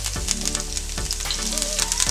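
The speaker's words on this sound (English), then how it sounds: "So first I'm going to add my garlic, and we're just sauteing our seasoning" Garlic and thyme sizzle steadily in a hot pan, with a constant close frying crackle and a few soft stirring knocks.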